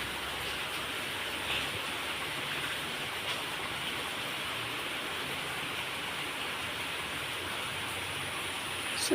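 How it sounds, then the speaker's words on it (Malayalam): Heavy rain pours steadily and loudly, a dense unbroken hiss of water spread evenly across the whole stretch with no voices. "നല്ല മഴ."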